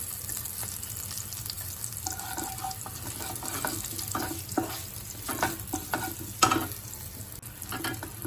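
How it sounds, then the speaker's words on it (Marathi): Chopped carrots with turmeric sautéing in a pan, a low, continuous sizzle with irregular spoon scrapes and stirring clatter, close up, with no talking. "आता जे गाजर चिरलेले होते तेही टाकून चांगले परतून दोन तीन मिनटं परतल्यानंतर"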